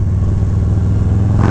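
A Low Rider ST motorcycle with an SP Concepts exhaust, stage 2 upgrade and Cyclerama 483 cam rumbles loud and close at a deep, steady idle, then rises into a brief rev at the end.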